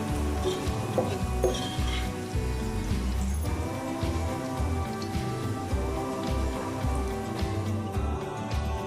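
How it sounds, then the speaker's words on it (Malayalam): Onions fry in hot oil with cashews and raisins for Manjali biryani, making a steady close sizzle and crackle with occasional stirring scrapes throughout. "സവാളൊക്കെ മൂത്ത് നന്നായി മൊരിഞ്ഞു വരാൻ തുടങ്ങിയാൽ അണ്ടിപ്പരിപ്പും മുന്തിരിയും ചേർത്ത് കൊടുക്കുക"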